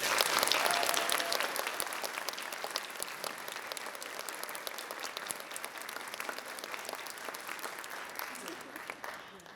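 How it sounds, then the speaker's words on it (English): Sustained applause from a large audience at a university convocation honoring students as champions of academic integrity, dense and steady clapping that slowly thins toward the end. "Let's give them a round of applause."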